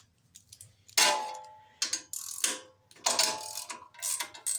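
Metallic clicks and clanks come in short separate bursts as 5/16 screws are taken out of a Briggs & Stratton opposed-twin carburetor, close and fairly quiet, with no talk.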